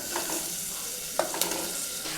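Chopped onion sizzles steadily in hot oil in a pan for Mumbai-style pav bhaji, a dense continuous hiss broken by a few soft clinks and scrapes of a stirring spoon.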